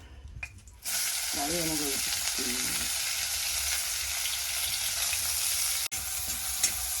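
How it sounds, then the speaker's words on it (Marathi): Onion frying in hot oil for a Malvani-style vegetable, a loud, even sizzle that bursts on abruptly and holds steady, with a brief voice underneath near the start and a sharp click late on. "यात कांदो भाजलो"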